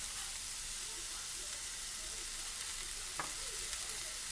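Mixed vegetables for a noodle spring roll filling stir-fry in a hot pan with salt and black pepper, giving a steady, close sizzle with light scraping stirs throughout and one sharper clatter partway through.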